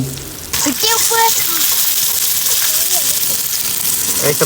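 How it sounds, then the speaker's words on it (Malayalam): Loud, dense sizzling of fish frying in hot oil begins abruptly and continues steadily, with a few faint tones near the start. "നമ്മുടെ മീനിന്റെ ഒരു ഭാഗം ഫ്രൈ ആയിട്ട് കേട്ടോ അപ്പുറത്തെ ഭാഗം മറിച്ചിടാൻ നോക്കാണ്"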